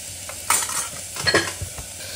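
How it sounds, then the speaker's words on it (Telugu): Chopped onions frying in a pan as a spoon stirs them, giving a soft sizzle under a few close scraping and clinking strokes. "ఆనియన్ బాగా ఉడకడానికి కలుపుతూ ఉండాలి."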